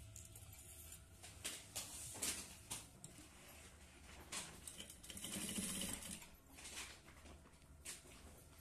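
A sewing machine stitches thread piping onto lining fabric for a sleeve, running in several steady bursts with short pauses, moderately close and clear, with no talk over it.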